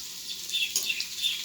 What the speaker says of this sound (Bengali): কড়াইতে দিয়ে দিয়েছি সরষের তেল, তেল গরম করে ভেজে নিচ্ছি।